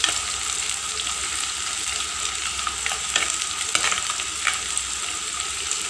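Shallots and garlic fry in a pan for a Palakkad-style herring curry, a steady close sizzle with occasional stirring scrapes throughout, no voices.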